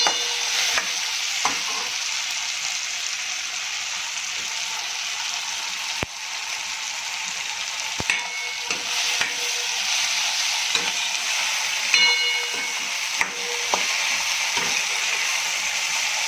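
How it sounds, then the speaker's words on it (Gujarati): Vegetables for veg pulao sizzle steadily in a hot pan while being stirred, with occasional sharp clinks and scrapes of a utensil against the pan, close up and with no talking. "તો આપણા વેજીટેબલ સારી રીતે સતળાઈ ગયા છે."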